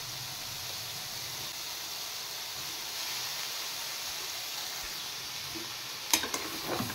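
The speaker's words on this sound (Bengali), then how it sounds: "এবার পুরোটা একসাথে সাঁতলে নেব একটু।" Green peas and soya chunks fry in oil in a kadai, giving a steady soft sizzle with a faint stirring scrape, then a brief clatter of stirring near the end.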